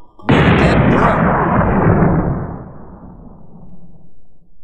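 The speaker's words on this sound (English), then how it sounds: "holy crap, flashbang" A flashbang goes off in the video game Melon Playground: one loud, sudden blast that rings out and then slowly fades over several seconds.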